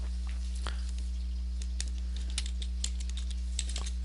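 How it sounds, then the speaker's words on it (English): Light keyboard typing during a CarveWright design-software session, a sparse run of soft clicks and a few sharper taps over a steady low electrical hum, close and fairly quiet. "Type in recess and press enter."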